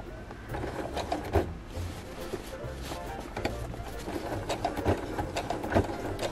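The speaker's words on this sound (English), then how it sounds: "Not bad for a little brother sewing machine." A small Brother sewing machine stitches through many layers of fabric for a tunic, giving a steady mechanical whir with rhythmic needle thumps and a few louder knocks, close up and continuous.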